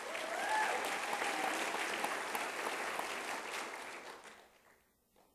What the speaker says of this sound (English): You've got a cheering section